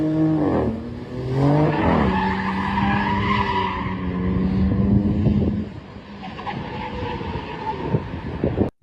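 Dodge Charger Sixpack with an inline-six engine revs hard while its tires skid and squeal, a loud, continuous roar with rising and falling engine pitch and a long screech that eases off near the end.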